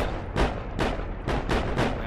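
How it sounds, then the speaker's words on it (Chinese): Heavy cannon blasts boom in the WWII game Heroes & Generals during an attack on a Sherman tank: four or five loud, evenly spaced thuds, each ringing out briefly, with no talking. "跟住我哋要炸个坦克嘅。"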